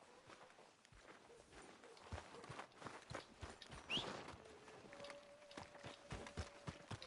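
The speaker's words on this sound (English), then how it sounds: "Are you gonna mount that new horse of yours or not?" Horse hooves clop at a steady walking rhythm in Red Dead Redemption, faint and close, over a soft ambient bed with a low sustained tone in the later part.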